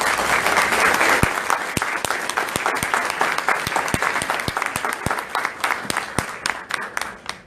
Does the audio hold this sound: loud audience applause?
yes